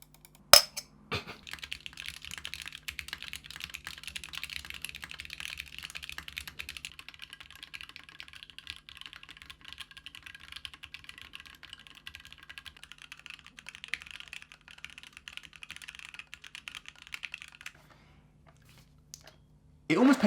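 Steady, continuous typing on a C3 Tangerine V2 mechanical keyboard, a dense patter of clacky keystrokes at close range that runs for most of the clip and then stops.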